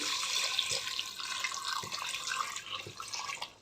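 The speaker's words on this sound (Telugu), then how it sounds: "ఇప్పుడు వాటర్ పోసేసుకుందాం" Water poured into a cooking pot for a pumpkin curry, a continuous splashing, trickling stream at moderate level with a few soft knocks, fading slightly at the end.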